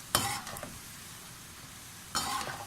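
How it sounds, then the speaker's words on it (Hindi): Lentil dahi bare dumplings made from chana, moong and maash dal sizzle in hot oil, with two bursts of bubbling and scraping as they are turned, separated by a quieter stretch of low frying. "अब ये फ्राई हो रहे हैं"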